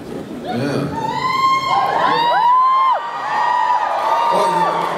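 Comic-Con panel audience at a San Diego X-Files reunion bursting into whoops and cheers, a loud crowd roar with shrill individual yells rising and falling over several seconds.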